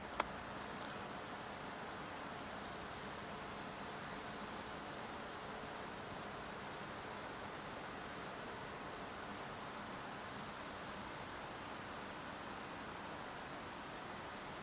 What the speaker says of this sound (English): that rain starting to get a little bit more now